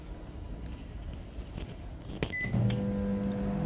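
A microwave oven running on a three-minute timer to cook rava idli: a faint low hum that steadies into a louder drone with a short beep partway through, heard alone at close range.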